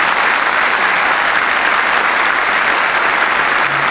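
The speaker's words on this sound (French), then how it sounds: "Merci, vous pouvez l'applaudir très très fort" Loud, dense applause from a large crowd greets a cyclist at a team presentation in an arena, a constant roar of clapping held at full strength without a break.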